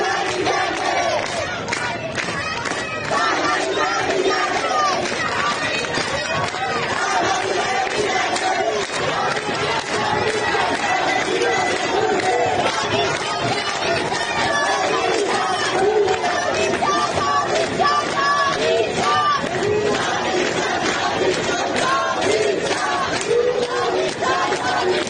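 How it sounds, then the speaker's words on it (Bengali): A large street protest crowd in Iran chants a slogan about Reza Pahlavi in loud, rhythmic unison, the repeated cries rising over constant crowd roar and shouting for the whole stretch. "এ সময় বিক্ষোভের মধ্যেই বারবার একটি স্লোগান শোনা যায়, এটাই শেষ যুদ্ধ, রেজা পাহলভি ফিরবেন।"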